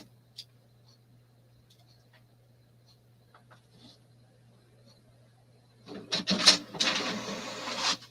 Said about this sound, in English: Put it into your copy machine.